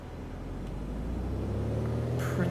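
Piper Arrow III single-engine aircraft engine in a flight simulator over the African bush, a steady low rumbling drone at reduced throttle, continuous and fairly loud.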